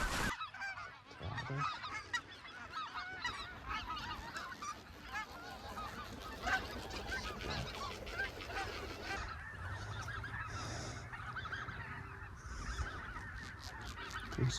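Canada geese and specklebelly geese honk steadily from a spring field hunt, a dense, continuous chorus of calls at middle distance over constant background noise.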